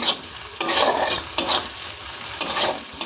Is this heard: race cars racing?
no